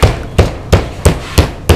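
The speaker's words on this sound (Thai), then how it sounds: "ำมาทุบด้วยค้อนทุบสเต็กครับ" A steak tenderizing mallet pounds raw pork neck in a home kitchen with six sharp, evenly spaced thuds, close and loud with no talk.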